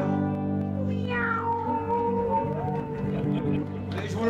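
A cat meows in a drawn-out, wavering cry over a sung French children's tune with sustained instrumental backing, the meow rising and bending against the music.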